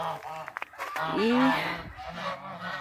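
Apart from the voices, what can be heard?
geese honking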